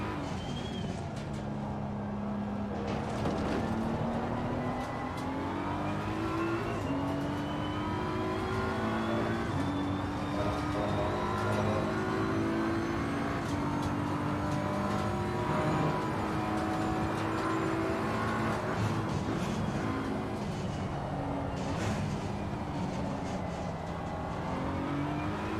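BMW M4 GT3 race car at Silverstone in Assetto Corsa Competizione, a loud continuous engine roar rising and falling through gear changes, with a downshift drop in pitch under hard braking and no talking.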